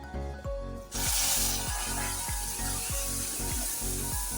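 Syrup poured into hot flour halva hisses into a sudden loud sizzle that keeps bubbling steadily, close and strong, with a rhythmic stirring scrape repeating underneath.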